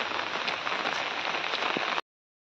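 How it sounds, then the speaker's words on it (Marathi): Heavy monsoon rain in the Konkan near Ratnagiri pours down in a dense, steady hiss with fine pattering drops, loud and close, for about two seconds before cutting off abruptly. "सकाळपासून पाऊस खूप लागतोय।"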